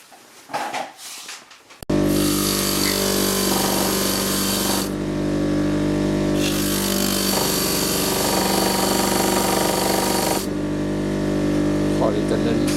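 A wire brush, apparently spun by a power drill, scrubs a front shock absorber part from a 2007 Golf 5 Plus 1.9 l 105 hp. After a brief quieter start it becomes a loud, steady, close whirring grind that continues unbroken to the end.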